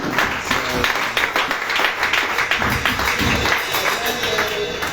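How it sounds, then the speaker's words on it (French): A church congregation applauds in dense, continuous clapping, with voices mixed into the crowd noise. "Applaudis pour Dieu."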